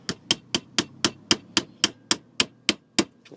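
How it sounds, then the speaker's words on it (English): Twelve sharp hammer blows strike at a steady, quick pace while making a knife handle, close by and clear with a low resonant thud under each hit. "And I might get an hammer for this."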